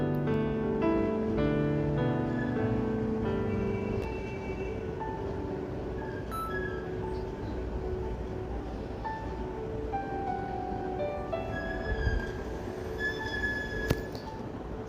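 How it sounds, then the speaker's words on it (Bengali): A Kolkata underwater metro train pulls into the platform: loud rumbling rail noise with high squealing and whining tones that fade as it slows, steady throughout with no speech. "এই যে আমাদের মেট্রো দেখো এসে গেছে।"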